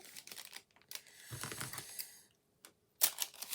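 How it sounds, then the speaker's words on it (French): Card stock cut to matching size for handmade card crafting: a few short, crisp snips and papery rustles in separate bursts with quiet gaps between them, close and fairly soft, with no talking. "je vais couper la même taille"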